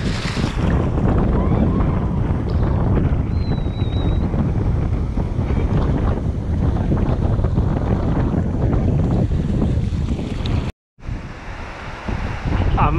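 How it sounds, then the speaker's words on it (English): Strong wind buffets the microphone with a constant roar over choppy, splashing waves, loud and unbroken, with a brief dropout near the end. "It's very, very windy"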